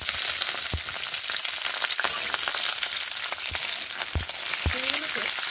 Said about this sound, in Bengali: শিমগুলোকে বেশ ভালোভাবে ভেজে নেব